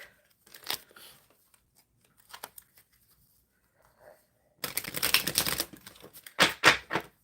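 An oracle card deck is shuffled by hand, with a few soft scattered rustles and riffles early on and then a denser burst of brisk papery shuffling near the end.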